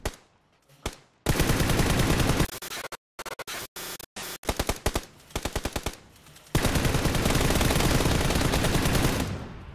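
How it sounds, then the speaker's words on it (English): Bursts of automatic gunfire from PlayerUnknown's Battlegrounds on Xbox: rapid loud volleys broken by short gaps and scattered single shots, ending in a long sustained stream of fire. "Where am I being shot from?"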